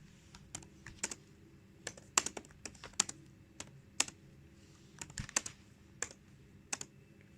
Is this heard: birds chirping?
no